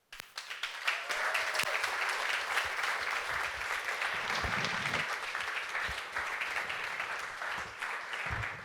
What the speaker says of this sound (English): While you're clapping, we will hug Denys and make him present.